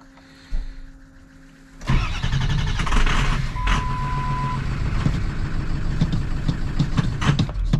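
An old Ford Powerstroke diesel pickup with 350,000 miles, left sitting for years, cranks briefly and then fires, settling into a loud, steady, clattering diesel idle heard up close.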